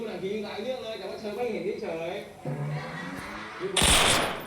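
Gunfire in a Roblox shooting game, with a loud broadband burst of shots near the end following a stretch of voice or game audio, and someone talking throughout.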